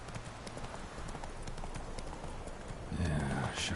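Horse hooves in The Witcher 3 video game clop steadily and close throughout, with a brief louder animal burst near the end over busy game ambience.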